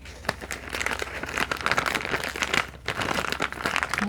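A plastic bag is handled close by, crinkling and crackling in irregular bursts with one brief pause, steady and fairly loud with no talking.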